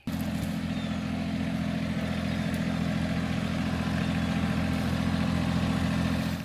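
A tractor engine runs at a steady idle close by, a constant low rumble with no voices over it.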